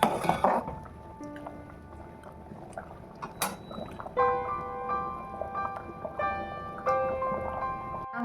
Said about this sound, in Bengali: সয়াবিনটা অ্যাড করে দিলাম, আবারও একটু ভেজে দিচ্ছি।